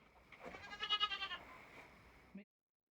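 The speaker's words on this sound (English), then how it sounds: "I'm going to roll in a clip of exactly what this is like. And it's going to be dealing with a baby goat." Young goat bleating in repeated wavering cries that rise to a peak, then trail off, fairly loud and close, ending abruptly.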